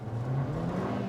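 A 2023 Haval Jolion S SUV pulls away under throttle from a launch, its steady engine drone rising and holding close and loud for about a second with no talk.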